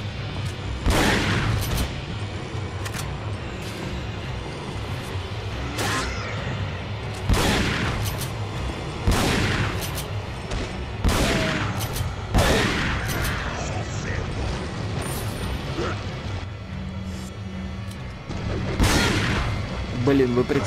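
Shotgun blasts ring out in Resident Evil 4, roughly a dozen sharp booming shots at irregular intervals over a steady game soundscape, with a voice talking in the background throughout.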